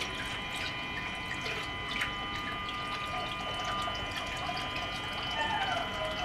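A small 12 V pump fills an aquarium tank with water, giving a faint, steady mechanical hum with a soft continuous trickle and gurgle throughout.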